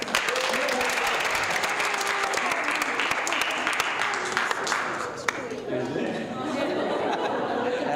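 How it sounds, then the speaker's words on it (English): A Sunday school graduation audience claps for a shy child in a temple hall, steady dense applause with chatter and a little laughter, thinning toward the end as voices continue. "You have to clap for her."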